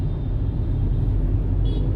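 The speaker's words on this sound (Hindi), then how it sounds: "थोड़ा सा ट्रैफिक है।" Steady low rumble of morning road traffic around 8:30 in Lucknow, heard from a moving vehicle passing a metro depot, with continuous engine drone and no voices.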